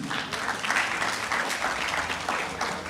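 Sustained audience applause at a football league awards ceremony, a dense wash of many hands clapping, steady and moderately loud throughout, with a faint voice underneath.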